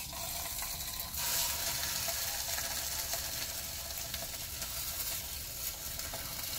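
Thin-sliced ham frying in a skillet during a van-life Christmas dinner, giving a steady, even sizzle and crackle that runs the whole time at a close, moderate level.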